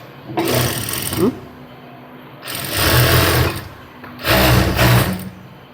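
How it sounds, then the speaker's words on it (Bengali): A sewing machine stitches a kurti sleeve in three loud bursts of rapid whirring, each a second or two long, with short pauses between them, heard close up. "এখানে সেলাই দিয়ে নেবেন"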